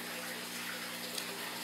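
Steady rushing water filling an aquarium tank after a water change, a continuous close gush with no breaks throughout.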